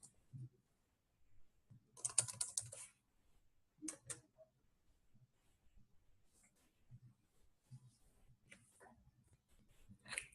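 Keys on a computer keyboard tapped in short irregular bursts of clicks, quiet and close, with pauses between clusters.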